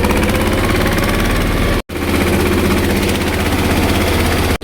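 A farm tractor's engine idles right after starting, a loud, close, steady diesel rumble with a throbbing vibration. It drops out abruptly for a moment before running on evenly.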